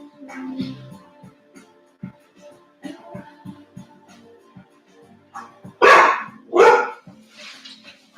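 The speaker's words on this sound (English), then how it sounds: "Apologies about that. It's my dog." A house dog barks during an indoor yoga session: scattered soft yips and whimpers first, then two loud, sharp barks close by near the end, with faint background sounds between.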